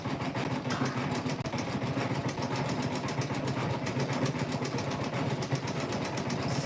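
A sewing machine runs steadily, stitching a dense satin-like decorative stitch that forms small hearts on quilt fabric, producing a close, continuous rapid mechanical whir without pause and with no talking.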